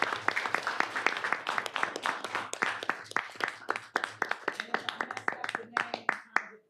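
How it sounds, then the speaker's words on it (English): Room full of people applauding board members at a board of directors meeting, crisp close claps in a quick irregular patter, lasting throughout before tapering off at the end. "Please, just let's give them a round of applause."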